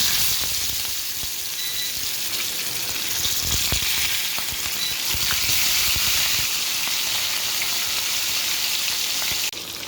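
Fish fries in hot oil in a clay pan, a loud, constant bright sizzle that holds steady throughout with no voices over it.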